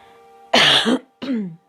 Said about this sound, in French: je tousse directement dans le micro